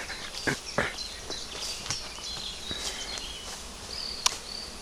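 Honeybees buzz around a hive, a soft, steady hum with faint passing buzzes and occasional light knocks, no voices.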